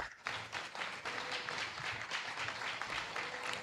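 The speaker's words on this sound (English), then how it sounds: "Let's give them a round of applause." An audience at a medical school induction and awards ceremony applauds, with steady, dense clapping from many hands filling the hall at moderate volume for several seconds.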